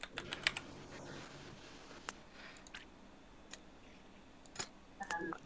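Quick bursts of computer keyboard typing, with scattered clicks and short clusters of keystrokes separated by quiet gaps, close and fairly soft.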